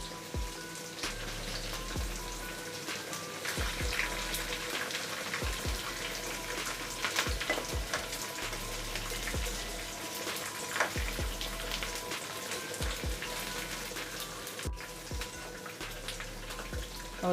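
Chicken 65 pieces frying in hot oil with a handful of curry leaves, a steady dense crackling sizzle like rain on a surface, with scattered louder pops throughout and no voices.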